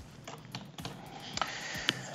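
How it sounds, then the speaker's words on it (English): A search term is typed on a computer keyboard as a short run of distinct key clicks, close and soft over a faint low hum, with no speech. "I type Obama."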